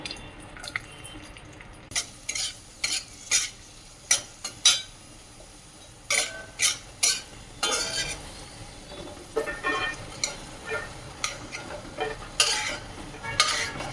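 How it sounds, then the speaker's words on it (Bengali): Cashews and raisins fry in about three spoons of ghee in a kadai, with a low sizzle beneath a rhythmic run of sharp spatula scrapes and clacks against the wok, close and steady. "প্রথমে আমি কাজু আর কিশমিশটা ভেজে নেবো"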